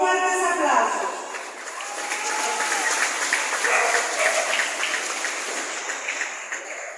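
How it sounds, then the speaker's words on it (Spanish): Dense, loud applause from a school graduation audience welcoming preschool and primary pupils to perform, sustained clapping throughout with a short spoken voice at the very start. "Vamos a recibirlos con fuertes aplausos"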